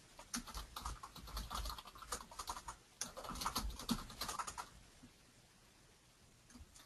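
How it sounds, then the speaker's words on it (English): Someone types an email reply on a computer keyboard in Office 2013, with quick, soft clusters of key taps in bursts that pause briefly, then trail off near the end. "and I can type my reply"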